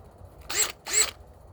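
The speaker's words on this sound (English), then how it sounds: "whatever wire brush I can get and whatever I can get to scrape sand, buff it up, scruff it up" A wire brush scrapes and scuffs the surface of an old Johnson outboard motor in two short, close strokes in quick succession, set against near silence.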